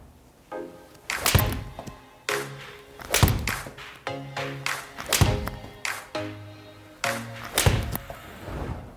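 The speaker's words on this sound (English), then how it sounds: "we'll get some 4 shots here with the Titleist T100 next." Golf balls struck with a Titleist T100 iron during a club fitting give sharp, close thwacks, about eight of them in an even rhythm roughly a second apart, with no talking.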